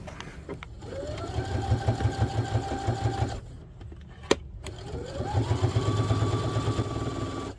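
A sewing machine stitching a fabric pouch runs in two steady, rhythmic whirring bursts separated by a short pause with a sharp click, close and clear with no talk.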